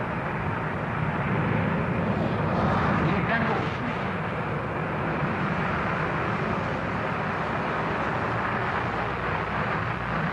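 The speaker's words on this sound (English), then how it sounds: "Beautiful takeoff. Climbing steeply, reheat still on, I can see." Concorde prototype 002 takes off at full power with reheat, giving a loud, steady, broadband jet roar that fills the whole stretch with little change in level.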